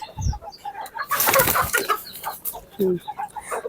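Chickens and chicks cluck and chatter nearby in short bursts at feeding time, with a flurry of flapping and scuffling in the middle.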